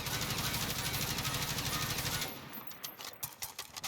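A rapid automatic weapon fires a sustained burst in Modern Warfare, a fast even rattle of shots for about two seconds, then stops, leaving faint clicks and handling noises.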